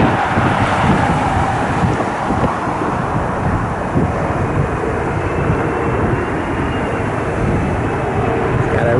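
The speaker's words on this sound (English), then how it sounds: "Got a regional jet inbound." A regional jet flies inbound toward Cleveland's airport, a steady broadband engine roar that stays loud and constant throughout, mixed with gusty wind buffeting the microphone and no talk.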